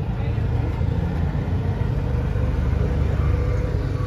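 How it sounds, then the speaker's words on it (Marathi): A four-cylinder MG Hector engine fitted with CNG runs steadily, a continuous low rumbling drone with no breaks or revving, heard close. "4 सिलेंडर इंजिन आहे गाडी."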